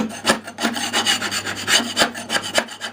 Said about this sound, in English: Let's get some of this two-sided tape off that was holding that speaker cloth in.